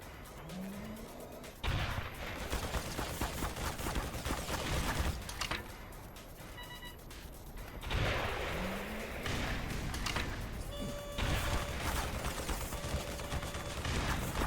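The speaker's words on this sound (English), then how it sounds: "I'm curious if this is going to be bugged and fire all 6 rockets like the MP5 grenade launcher" Rocket launcher fire in the Black Mesa video game, with loud bursts of blasts and booms. Whooshing rushes repeat across a continuous, dense stretch of combat noise.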